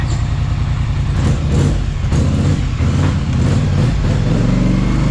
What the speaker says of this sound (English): oh, the exhaust sounds good